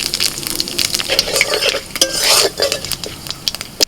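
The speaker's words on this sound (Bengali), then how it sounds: "ওই তেলের মধ্যে ফোড়নে দিচ্ছি তেজপাতা শুকনো লঙ্কা একটুখানি গোটা জিরে" Bay leaf, dried red chili and a pinch of whole cumin crackle and sizzle as they hit hot oil in a pan, with close clinks and scrapes of a utensil against the pan through the short burst.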